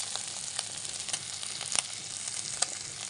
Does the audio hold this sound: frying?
yes